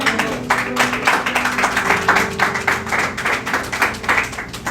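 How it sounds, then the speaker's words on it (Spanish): A church congregation claps for God in rhythmic unison, loud and close, with even repeated beats running throughout. "Denle un fuerte aplauso a Dios."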